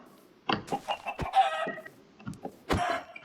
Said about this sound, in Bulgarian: Петел.